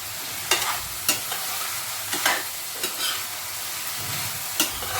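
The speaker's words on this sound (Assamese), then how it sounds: "এতিয়া এইখিনি মই আৰু 1 মিনিটমান সময় এনেদৰে ভাজি ল'ম" Cauliflower, potato, peas and tomato fry in a pan with a steady close sizzle, punctuated by several sharp scrapes and clinks of a spoon stirring at irregular intervals.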